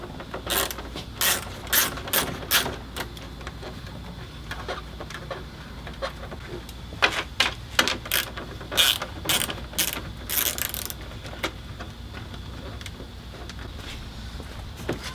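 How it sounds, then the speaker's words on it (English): A ratchet with a 10mm socket turns out headlight bolts on a 2009 Hyundai Genesis, bursts of rapid close clicking in several runs separated by brief pauses. "you're going to take a 10mm socket, and you're going to get these 10mm bolts out of here"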